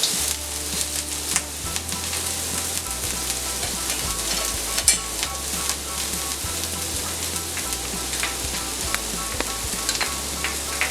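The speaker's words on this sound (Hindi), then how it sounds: "अब हम इसमें हम डालेंगे शिमला मिर्च। इसे भी 1 मिनट सेक लेंगे।" Capsicum sautés in a pan for chicken Manchurian, making a loud, dense, continuous sizzle close by, with scattered crackles and a steady low hum beneath.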